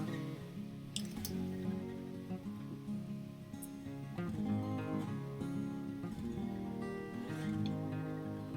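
A liquid vanilla mixture poured over a box-mix cake soaks into its holes, giving soft, faint dripping and squishing sounds beneath steady background music.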